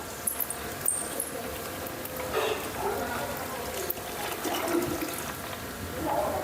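Desi cow's milk poured into a pot while herbal medicines are made by hand, giving a steady rushing, splashing liquid wash that runs throughout.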